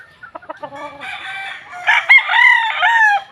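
A gamefowl rooster at a game farm gives a loud, close crow after a few short clucks, with a second drawn-out crow overlapping near the end.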